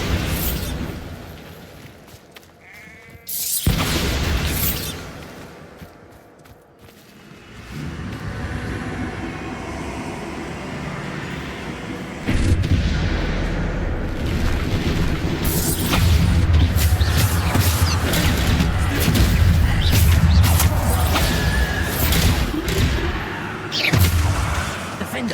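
A Bombarda explosion spell in the Hogwarts Legacy video game goes off with a loud boom, followed by sustained rumbling and layered combat effects, while a voice calls out over the action.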